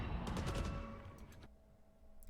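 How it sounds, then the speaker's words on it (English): Rapid bursts of Phantom and Vandal rifle fire from the Valorant video game crackle in a dense fusillade, loud at first then fading to quieter scattered shots. "we're listening to the gunshots, actually. So the gunshots, you would have heard a phantom and a vandal going off"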